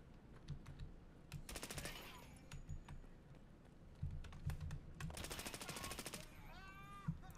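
Hipfire from a gun in Escape From Tarkov, two loud rapid automatic bursts of a second or so each, with busy keyboard typing and clicks running underneath throughout.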